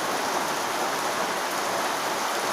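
Steady rain falls during a morning storm in a rural setting, a dense, even hiss that stays constant throughout with no voices.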